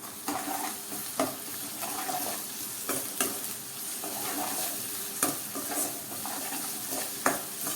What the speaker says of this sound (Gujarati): બધી વસ્તુને તેલમાં સારી રીતે મિક્સ કરી લઈએ અને ચલાવીએ જેથી બધું જ સારી રીતે ભળી જાય